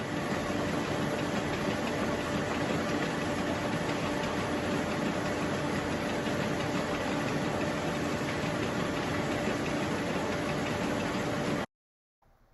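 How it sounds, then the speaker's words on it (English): A wool processing machine gently rubs individual threads into unspun yarn, giving a steady, dense mechanical whir with a fine ticking texture and a faint tonal hum, running loud and unbroken before stopping abruptly near the end. "The machine rubs the individual threads very gently, producing a kind of unspun yarn"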